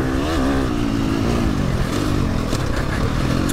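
An older, near-vintage motorcycle engine drones loudly and steadily nearby, its pitch wavering slightly as it revs, with no one speaking.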